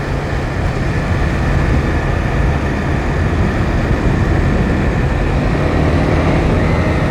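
A Honda CBR 300 motorcycle at speed, its engine drone blended with a loud, steady roar of wind across the whole stretch, close and unbroken, with no speech.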